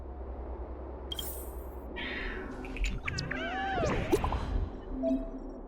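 Cat meows from the Honkai: Star Rail video game, several rising and falling calls clustered in the middle and growing louder, over a steady game background with brief chimes.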